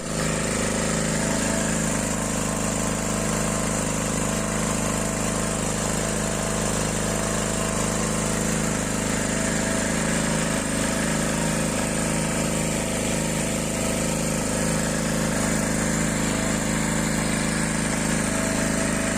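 A STARTPRO 1800 portable generator runs on petrol, its engine droning at a loud, steady hum with constant vibration and no change in pace throughout.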